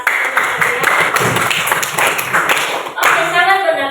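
A class of students applauds in a school classroom, a steady burst of many hands clapping that lasts a few seconds and fades out as a voice begins talking.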